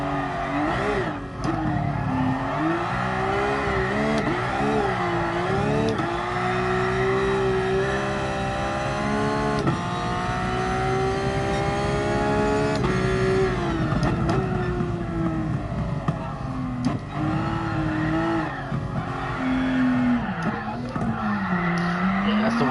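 A race car in the GT Sport video game at the Red Bull Ring brakes hard and skids through a drift, tires squealing loudly over a steady engine drone for the whole stretch.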